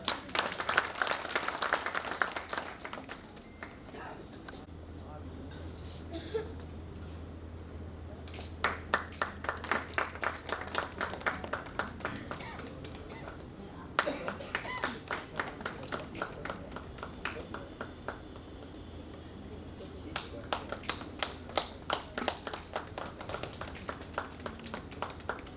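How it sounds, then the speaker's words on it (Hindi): Enthusiastic audience applause at a social gathering in India, bursts of dense clapping that swell and fade in waves across the stretch, with a steady low hum underneath and some background chatter. "इसलिए इनके लिए जोरदार तालियां।"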